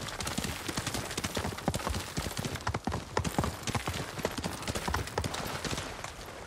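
Horse hooves gallop in the video game Ghost of Tsushima, a fast, continuous clatter of hoofbeats close up, with no talk over it.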